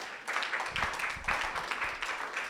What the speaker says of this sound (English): I was expecting an applause from you.